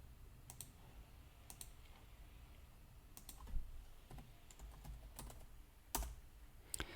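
Quiet, scattered keystrokes on a computer keyboard, a few separate clicks and short bursts with pauses between, close and soft against a low background hum.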